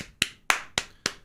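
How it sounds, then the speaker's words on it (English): Four slow, evenly spaced hand claps ring out close and clear, a restrained polite clap of the kind heard when a golf ball drops into the hole, with no voices. "clap politely when the ball goes in"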